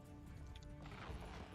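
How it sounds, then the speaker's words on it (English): Horse hooves clip-clop in the video game Myth of Empires, a quick run of faint hoof beats over a low ambient bed, without speech. "Ride the horse over here and park him"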